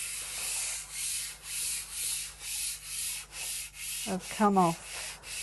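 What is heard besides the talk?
rubbing dried kiln wash smooth on a kiln shelf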